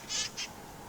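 A couple of parrots give two short, harsh, high calls in quick succession from a moderate distance over a quiet outdoor garden background.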